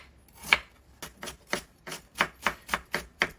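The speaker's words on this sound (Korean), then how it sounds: "채를 썰어주세요." A knife cuts a carrot into thin strips on a cutting board, about ten crisp, evenly spaced chops, close and clear in a quiet kitchen.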